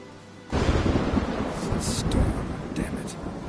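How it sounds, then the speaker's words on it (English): Thunderstorm in The Witcher video game: a sudden loud thunder roll breaks over steady heavy rain, rumbling on for several seconds with faint crackles on top. "Storm, damn it."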